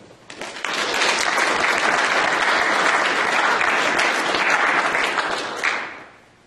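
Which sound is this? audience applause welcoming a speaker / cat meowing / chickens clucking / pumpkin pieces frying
audience applause welcoming a speaker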